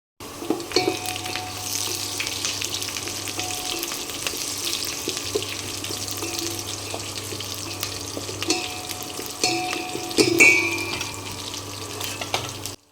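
Fish roe fries in a pan with a continuous crackling sizzle and occasional louder pops and scrapes, close and steady throughout, without any speech.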